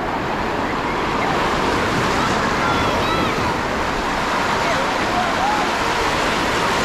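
Sea waves wash onto an Odesa beach in a loud, continuous roar of surf, with faint high tones drifting over the broadband rush.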